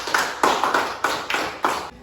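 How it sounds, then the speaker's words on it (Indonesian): A class in an Indonesian school lesson claps together in a patterned rhythm, with bursts of group hand claps repeating steadily for two seconds and no speech over them. "tepuk tangan untuk kita semua"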